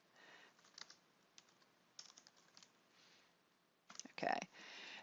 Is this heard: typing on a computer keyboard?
yes